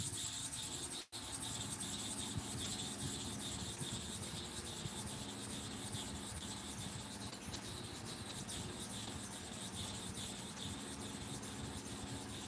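A barber's razor blade is drawn slowly across a sharpening stone with light pressure, giving a continuous soft, even rubbing and grinding with faint repeated strokes, close up and without any voices.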